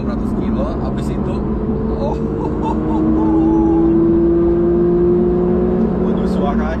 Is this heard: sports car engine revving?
yes